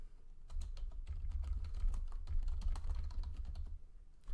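Steady, rapid typing on a computer keyboard, many close clicks in an uneven rhythm with a few brief pauses, no voices.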